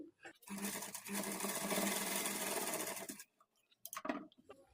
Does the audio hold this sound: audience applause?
no